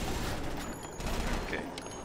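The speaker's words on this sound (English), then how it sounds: "Shots." Continuous dense gunfire from the video game Dead Rising, a steady crackling wall of shots with little pause over a couple of seconds.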